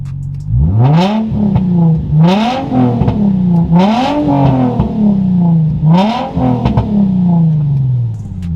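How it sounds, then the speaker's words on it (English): A stock Infiniti G35 engine idles and is revved in several quick blips, each rising and falling, with pops between them, loud and close with no talking. "this car sounds so good, you know what I'm saying, with the pops and all that."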